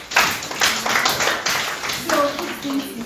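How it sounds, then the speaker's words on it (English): Students clapping in a school programme session, an uneven spatter of claps rising and falling over a few seconds, with voices and talk mixed in. "clap for it"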